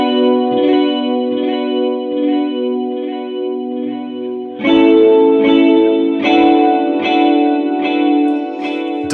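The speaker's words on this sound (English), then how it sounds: "we've got some chorus coming from the Duophony, this 90s chorus, like tri-chorus kind of sound." Electric guitar played through a pedalboard with a 90s tri-chorus from a Duophony pedal, delay from a 202 and a touch of reverb, sustained shimmering chords that swell, then a louder run of strummed chords with echoing repeats, alone and up close.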